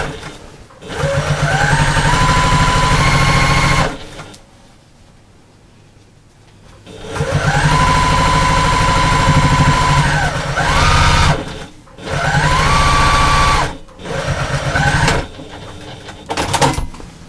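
A sewing machine stitches across the end of a slouchy bag in loud, close, whirring runs that start and stop several times, with quiet pauses between bursts of stitching.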